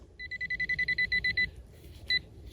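Metal detector in a forest gives a fast run of regular electronic beeps, then a pause and one final beep, clear and close with faint background.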